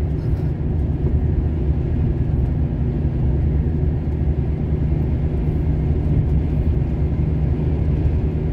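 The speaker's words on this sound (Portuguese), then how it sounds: "Agora tá funcionando o freio motor." A Volvo truck runs with its engine brake engaged on a highway near Pederneiras, giving a steady, loud, low droning rumble that holds unchanged throughout.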